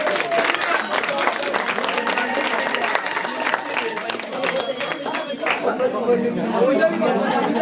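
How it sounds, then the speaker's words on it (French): An audience at a school slam poetry performance by third-year students applauds the performers with brisk clapping, mixed with chatter and voices throughout, staying fairly loud and continuous. "vous pouvez encore les applaudir plus fort si vous voulez"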